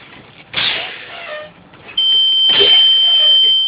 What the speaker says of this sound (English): My alarm came on at 70 psi, letting me know it's a good test.